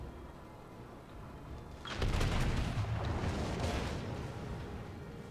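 Heavy naval shells from the Turpitz strike and bounce off the armor of the US battleship Colorado in World of Warships, a sudden loud rumbling burst of booms and crackle that swells and then lingers as a dense roar.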